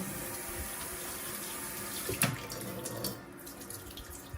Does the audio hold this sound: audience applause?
no